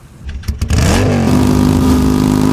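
A bike engine in the video game Empyrion starts with a few clattering knocks, then rises into a loud, steady, close revving drone that holds to the end.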